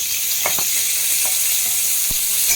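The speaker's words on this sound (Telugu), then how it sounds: "మళ్ళీ అదే ప్యాన్లో నేను వచ్చేసి కొంచెం ఆయిల్ ఉంచాను. క్యాప్సికమ్ వేస్తున్నాను." Capsicum frying in a little oil in a pan, a loud, close, steady sizzle with a few soft spatula taps and scrapes on top, alone and without talk.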